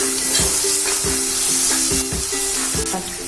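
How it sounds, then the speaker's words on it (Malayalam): Ingredients sauté in a hot pan for a fish roast, with a steady loud sizzle and a spoon scraping and stirring through them about twice a second. "അതിന്റെ പച്ചമണം പോകണം, അതുവരെ ഒന്ന് വഴറ്റി കൊടുക്കണം."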